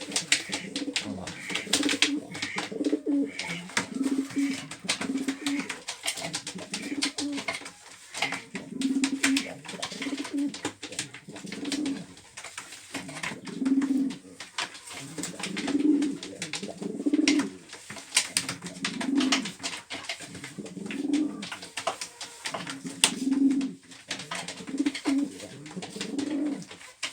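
Pigeons in a breeding loft coo again and again, low throaty rolling calls repeating close by over a steady rustling background, with no voices.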